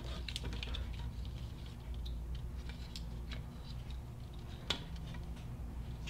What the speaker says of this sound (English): I'm just going to cut a small section off of here